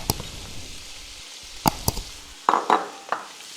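Bacon and sliced brown and red onion frying in a pan, a soft steady sizzle broken by a few sharp clicks and scrapes of a utensil against the pan, with no talking.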